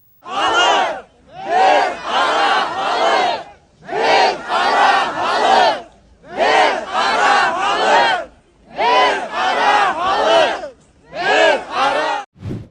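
A large protest crowd in Baymak, Bashkortostan, chants loudly in unison: six rhythmic bursts of shouted phrases, each a couple of seconds long, separated by brief pauses.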